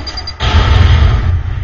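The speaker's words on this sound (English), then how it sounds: "Whoa, that was a big explosion." A big explosion in the video game Watch Dogs: a sudden loud booming blast that kicks in after a short quieter lead-in and then rumbles heavily for over a second.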